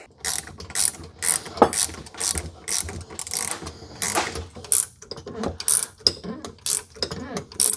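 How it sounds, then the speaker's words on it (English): A ratcheting torque wrench clicks as it works on a third-generation Toyota 4Runner during a budget lift install, giving rapid, irregular bursts of close mechanical ratchet clicks throughout. "we'll feel what 20 foot-pounds feels like on our torque wrench, and then we'll just use our wrench to get pretty close to that."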